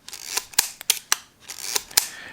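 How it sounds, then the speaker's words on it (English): Ricoh Mate film camera being wound and fired several times, giving a string of sharp mechanical clicks and ratcheting snaps spaced irregularly, close and clear with no talking. "wind the shutter and fire the shutter button until the number 1 shows up in the film counter"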